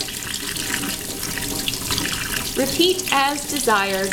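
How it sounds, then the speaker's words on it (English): Tap water runs steadily into a sink as a paintbrush is rinsed clean of green paint, a continuous near splashing hiss with a person talking over the second half. "I'm gonna rinse it."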